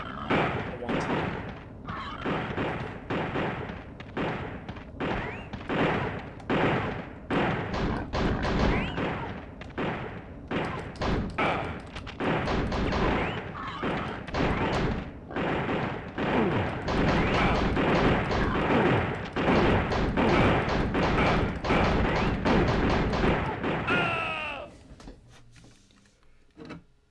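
Gunfire in a PlayStation video game, with many sharp shots and thuds in an irregular rhythm, dense and continuous for most of the stretch before cutting off near the end, loud and close.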